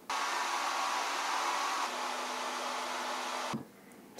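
A heat gun blowing on the lower fork leg of a Yamaha DT175 dual sport motorcycle, a loud, close, steady rushing whir that holds for several seconds and then cuts off abruptly.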